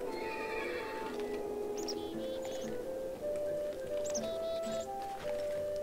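A horse in Minecraft whinnies in high, wavering calls while hooves clip-clop softly beneath, with a steady tonal game-like backdrop throughout.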